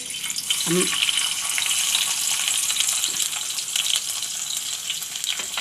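Garlic and ginger dropped into hot oil in a kadai for Indian-style masala pasta, giving a loud, steady sizzle and crackle that runs throughout, with a brief stir or clink near the start.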